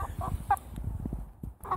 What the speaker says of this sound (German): Der gackert, wenn man hört, wie ein Hähner.